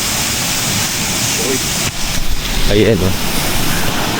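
River rushing past a campsite in the middle of a city, a loud constant roar of flowing water close by, with a person talking briefly over it.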